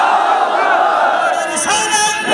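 Large crowd at a Shia religious gathering commemorating Karbala shouts slogans in unison, a dense, loud roar of many voices sustained throughout with swelling bursts near the end.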